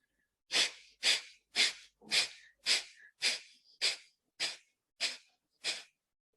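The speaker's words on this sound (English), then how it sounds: "We will exhale out from one nostril and close out the other nostril." Forceful exhalations through one nostril in pranayama breathing practice, ten sharp, evenly spaced hissing blasts of breath, close and clear against silence.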